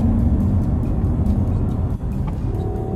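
A Mazda CX-60 drives on its electric motor, a steady low road and tire roar from inside the cabin with a faint motor whine and a slight dip in level midway.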